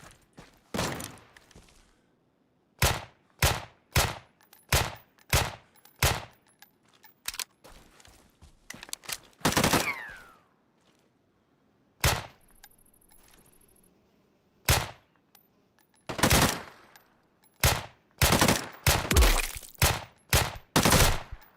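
Loud, sharp pistol shots from a .45 handgun in the survival shooter Deadside, fired singly and in quick bursts of two or three with brief gaps, close and dry, with no talking.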